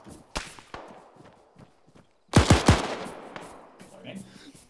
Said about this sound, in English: we're being shot from behind